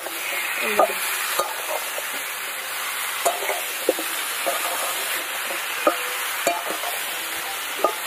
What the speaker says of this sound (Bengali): সব কিছু দিয়ে এবার ভালো করে ওলকপিটাকে কষিয়ে নিতে হবে।